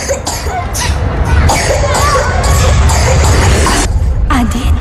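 Repeated harsh coughs from a person with flu in a medicine advertisement, several bursts in quick succession over background music and ambient noise, loud and close.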